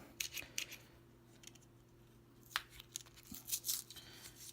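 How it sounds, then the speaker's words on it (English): Scissors snip open the plastic packaging of a replacement battery for a Nissan key fob, giving a few quiet, sharp cuts and crinkles up close, grouped near the start and again toward the end. "So what we're going to do is just cut this open like such"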